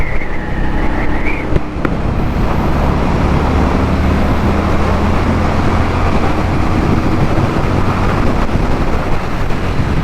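A 2022 Indian Scout Bobber motorcycle accelerating on the road, its engine a steady low drone under heavy wind rush and road noise, with a faint rising whine near the start.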